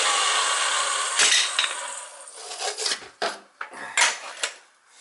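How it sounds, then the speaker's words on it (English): A hand reamer scrapes inside a pipe end during boiler and oil tank replacement: close, loud rasping metal strokes, first continuous, then broken into short separate grinding bursts. "I'll ream it with the reamer."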